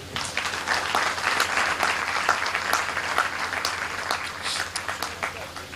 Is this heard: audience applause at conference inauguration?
yes